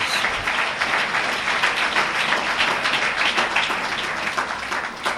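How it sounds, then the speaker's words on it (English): Audience applause for Brother Johnny Muhammad at a Nation of Islam lecture, a dense, steady wash of many hands clapping that carries on for several seconds with no talk over it. "Let's give Brother Johnny Muhammad a well-deserved round of applause."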